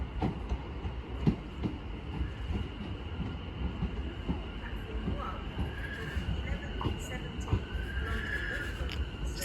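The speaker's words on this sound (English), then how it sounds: "Now arriving is the 1116 London Overground service from Chingford to London Liverpool Street" A London Overground Class 710 train arrives at Bethnal Green station, a low rumbling rolling noise with brief clatters and squeals. A station announcement plays over it, and ambient platform noise runs throughout.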